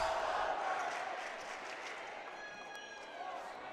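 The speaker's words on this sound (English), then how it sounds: "The fans really cheering him on in the Pioneer student section." Student fans in the Pioneer section cheer during a boys' high school basketball championship game, a broad, fairly distant crowd roar that swells at first and then settles into a sustained, slightly fading murmur of voices in a gym.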